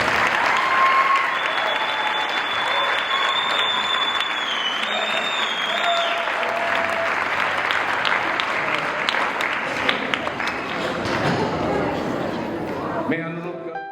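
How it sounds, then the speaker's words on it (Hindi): Wedding guests at a Christian wedding ceremony clap steadily and fairly loudly for several seconds while a melodic tone and crowd chatter run underneath, the applause tapering off near the end. "अभी तो पहले तो हम एक बार और ताली बजा सकते हैं।"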